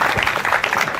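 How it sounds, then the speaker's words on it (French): A short burst of audience applause at a French ceremony congratulating a winner, loud close clapping filling the moment. "On applaudit"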